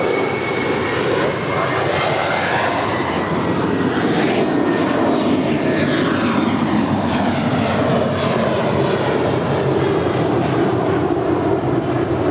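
A fixed-wing airliner takes off from runway 25 right at LAX, a loud, steady engine roar that swells slightly and holds, heard from the airport's south side with no voices over it.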